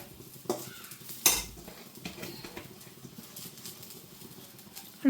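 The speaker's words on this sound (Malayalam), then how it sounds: "വെളിച്ചെണ്ണ തിരുമ്മി വെച്ചേക്കുന്ന ഇത് നമുക്ക് അതിനകത്തിട്ട് ഇളക്കിയെടുക്കാം." Chopped spinach and colocasia greens are stirred with coconut grated in coconut oil in a pan for thoran, with quiet spoon scrapes, faint sizzling and a couple of sharp knocks against the pan.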